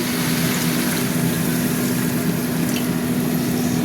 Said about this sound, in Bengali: এই যে জল দিয়ে দিচ্ছি।